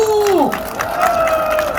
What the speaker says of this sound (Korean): 우리 윤석열 대통령한테 힘을 실어주는 힘찬 박수 한번 보내주시죠.